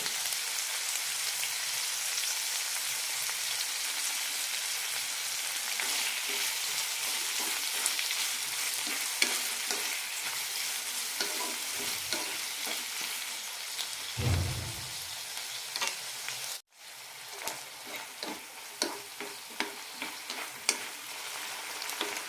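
Tomatoes sautéing in a pan for a tomato garlic chutney make a continuous soft sizzle with faint stirring scrapes and a brief dull knock partway through. The sound is fairly quiet and there is no speech.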